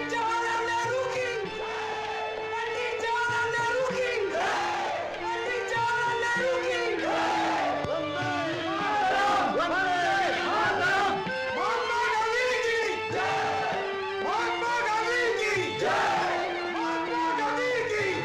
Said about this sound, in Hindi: ये इंसानी समंदर महात्मा गांधी के पीछे उनकी जय जयकार के नारे लगाते हुए उनके दर्शन के लिए मचल रहा है